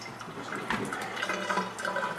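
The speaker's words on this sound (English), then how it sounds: "I'm going to run some water through the machine" Water rushes and gurgles steadily through an Aqua Ionizer Deluxe 7.0 water ionizer during setup, a close, moderate, continuous flow.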